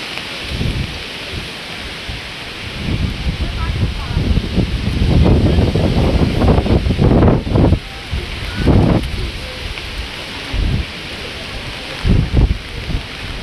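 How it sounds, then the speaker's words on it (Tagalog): Strong wind roars in heavy gusts over steady rain at Kamay ni Hesus, surging loud through the middle and easing in bursts toward the end. "Lakas naman ang hangin."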